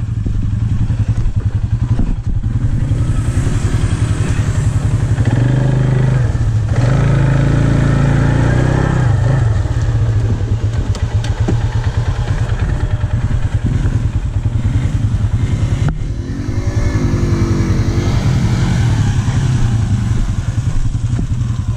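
A motorcycle engine runs loud and close throughout at a first ride in Slades Park, Virginia, droning steadily with rising and falling revs and some mechanical clatter.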